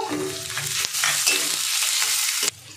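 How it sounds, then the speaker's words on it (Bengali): Crushed ginger and garlic hit a pan of frying onions, a bright continuous sizzle punctuated by spoon knocks and stirring scrapes, with a sharp clatter near the end. "আদা রসুনটা দিয়ে দিলাম, দিয়ে আরেকটু ভেজে নেব।"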